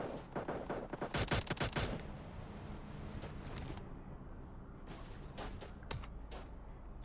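Gunfire in the mobile battle-royale game PUBG Mobile during a pro scrims match: dense, rapid bursts of shots in the first two seconds, then scattered single shots and short volleys over a steady in-game background.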